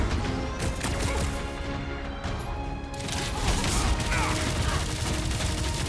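Gunfire in Marvel's Guardians of the Galaxy during a fight with a flying enemy and Centurions; rapid, dense volleys of shots and impacts run continuously, with loud crashes layered under the battle.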